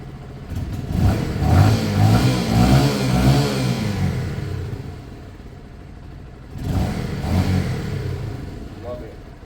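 A Lexmoto Michigan motorcycle engine revving after a carburettor swap, a loud close rumble that swells and holds for several seconds, drops to idle, then revs again.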